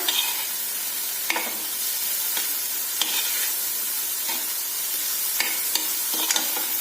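Vegetables sprinkled with oregano sauté for a bread pizza stuffing, with a bright, steady sizzle broken by regular spatula scrapes and taps against the pan, close and clear.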